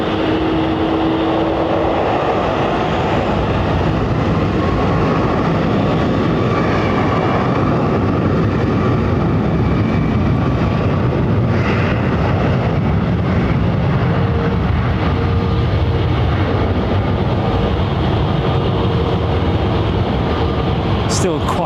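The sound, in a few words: aircraft on takeoff roll at London Heathrow Airport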